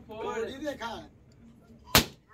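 A balloon pops once with a sharp, loud bang during a street balloon game, shortly after a voice speaks nearby.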